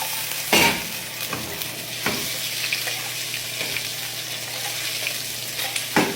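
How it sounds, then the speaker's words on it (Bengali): Eggs coated in turmeric and chili sizzle and crackle steadily in hot oil, close and continuous, with a few sharper spatters and scraping stirs. "এই যে তেল গরম হয়ে গেছে দিয়ে দিলাম"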